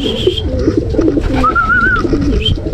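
Racing pigeons coo softly close by, a few low throaty calls mixed with brief higher chirps against a background of gentle loft noise, with no voices.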